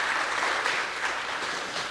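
A room of people claps steadily at a city council meeting in Anacortes, a dense, even wash of applause that carries on without pause and fades slightly at the close.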